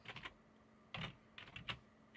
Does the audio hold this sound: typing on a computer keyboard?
yes